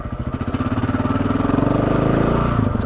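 A motorcycle ridden at steady speed, its engine droning loud and close with a throbbing, pulsing rhythm and rising pitch through the whole stretch.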